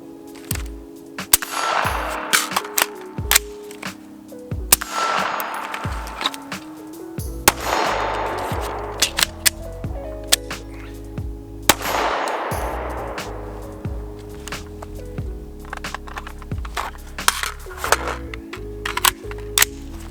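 Pistol shots ring out during a shooting training drill, a long run of sharp, close cracks fired in irregular bursts with short pauses, over a steady tonal background and with no talking.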